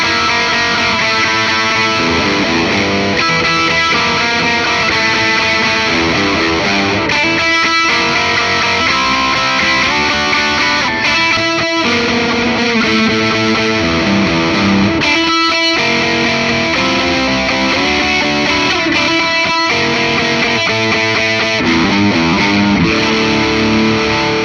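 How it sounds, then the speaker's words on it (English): Heavily distorted electric guitar from a 2008 Gibson Les Paul with an oak top, played loud and continuous with dense chords and sustained notes, brief gaps between phrases, and no talking. "Let's try some distorted tones now."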